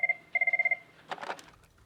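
A telephone rings in two short trilled bursts, the second longer, clear and fairly close, followed by a brief murmur of voices.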